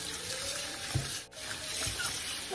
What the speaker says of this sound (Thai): เดี๋ยวล้างน้ำ